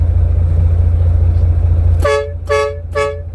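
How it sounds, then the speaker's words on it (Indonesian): A ten-wheel dump truck sounding its horn three times in even succession during a driver test, loud and close over the steady low rumble of the idling engine. "Klakson 3 kali."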